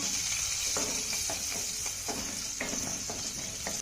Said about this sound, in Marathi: आता हा लसूण आपल्याला चांगला परतून घ्यायचा आहे